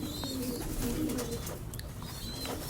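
A pair of crested Saharanpuri pigeons coo in soft, repeated low calls close by, with faint chirps and background rustling, and no one talking over them.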